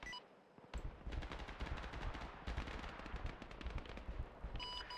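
Rapid bursts of automatic gunfire in Modern Warfare as a vehicle is shot up, loud dense volleys of shots continuing almost nonstop after a brief quiet start.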